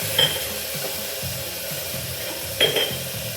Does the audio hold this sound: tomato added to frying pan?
yes